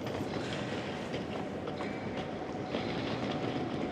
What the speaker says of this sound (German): gehen wir doch gleich schon mal zu den Gleisen und schauen uns noch ein paar Züge an